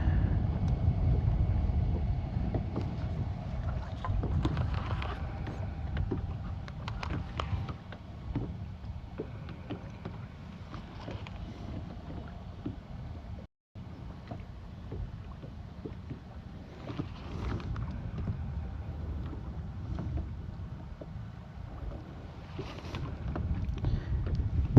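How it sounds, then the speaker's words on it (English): Steady wind rushes and buffets across the microphone on a boat out on Lake Guntersville during bass fishing, a continuous low roar with gusty swells and one brief dropout midway, no talking. "freaking wind keeps blowing my line on my guide"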